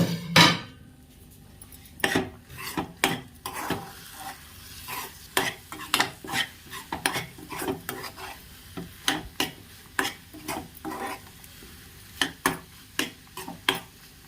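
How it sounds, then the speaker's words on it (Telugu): A pot of rice is stirred with a spoon in a home kitchen, a long run of repeated scraping strokes, some louder, against a faint sizzle. "ఇక్కడ రైస్ కూడా అవుతుందండి. ఇప్పుడు మనం కొంచెం తీసి చూద్దాం."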